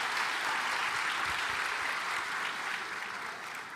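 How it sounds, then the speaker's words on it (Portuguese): A church conference crowd applauds steadily, a dense wash of clapping that holds for a few seconds and then begins to taper off. "agora um forte aplauso para você também"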